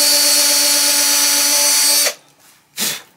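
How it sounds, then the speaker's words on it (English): An electric drill bores into the fretboard of an archtop guitar during a re-fret. It gives a loud, steady whine for about two seconds, then stops abruptly, followed by a short, softer rustle. "then you're going to take your drill and go down not too far"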